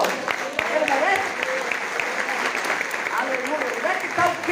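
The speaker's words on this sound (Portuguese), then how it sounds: "Vamos aplaudir o Senhor Jesus, irmão." Church congregation applauding together during a sermon, a steady dense wash of clapping hands filling the room, with a preacher's voice faintly audible over it.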